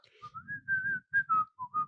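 Someone whistles a short, wavering melody of about seven notes, each clipped and breathy, close up and alone with no talk over it.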